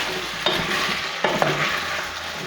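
Small-cut broccoli stalk, onion and potato fry in oil in a pot for a broccoli and Stilton soup, with a soft steady sizzle and two clear scraping stirs of a spoon, close up and with no voices.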